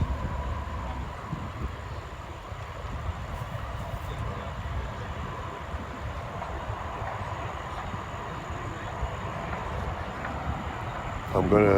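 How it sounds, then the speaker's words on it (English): An eastbound coal train descends a mountain grade near a big curve, heard as a steady, fairly loud broadband rumble with a constant high whine, continuous throughout and swelling slightly at the very end. "eastbound coal train coming down the mountain over here"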